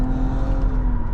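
Cabin view of a 2023 Nissan Rogue Platinum at full throttle, with a strong, sustained engine drone whose steady pitch rises slightly, heard loud and close with no voices.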